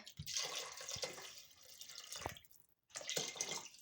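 Spring water pours into a multicooker pot of buckwheat and meat, a close, steady splashing stream that pauses briefly near the end before resuming.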